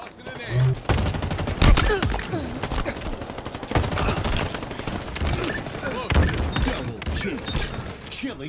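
Video game battle gunfire: rapid bursts of automatic fire and single shots crackle throughout, loud and close, with a few heavier booms and scattered in-game voices.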